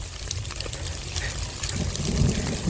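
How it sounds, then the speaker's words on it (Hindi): Rain falls on a wheat field during harvest as a Kartar combine works nearby, a steady broadband patter with a low rumble swelling slightly toward the end. "बारिश हो रही है"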